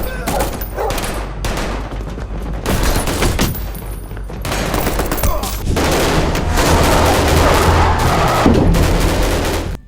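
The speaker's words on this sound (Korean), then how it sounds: "기존 한국 영화에서의 총소리와 차원이 다른 총소리였습니다" Loud, dense gunfire in a Korean film with rapid automatic bursts and heavy single shots, booming continuously and close for the whole stretch, with no pauses.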